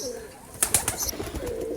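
Pigeons in nest boxes on a farm, some sitting on eggs or chicks, give a few short soft coos and rustles. The sounds are close and brief, over a quiet background.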